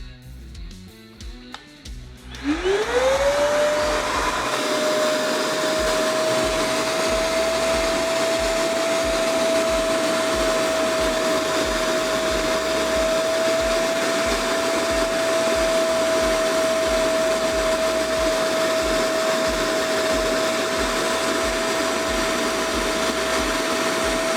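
A Procraft VP20 cordless vacuum cleaner switches on and spins up to a steady, high-pitched whine and airy hum that continues unchanged throughout.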